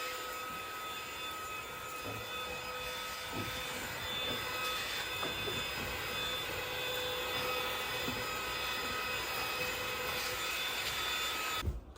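Close, continuous whine of a running household vacuum cleaner with a steady motor pitch and light scraping over the floor, cut off abruptly at the very end.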